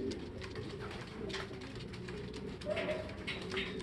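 Soft dove-like cooing over a busy outdoor background with steady ambient noise, a few calls rising slightly louder near the end.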